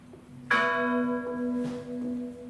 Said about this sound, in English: ringing the bell for breakfast